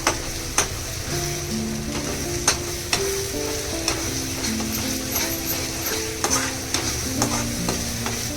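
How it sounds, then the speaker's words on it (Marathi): Masala sautéing in oil in a pan, stirred steadily with a spoon: continuous sizzle under regular scraping knocks, close and even throughout, no talk. "मसाला पण आपला चांगला परतून घेऊया"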